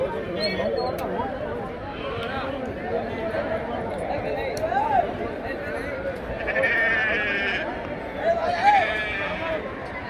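Sheep bleat repeatedly amid a noisy crowd at a busy sheep market in Devadurga, with people talking nearby and the bleats rising above the chatter.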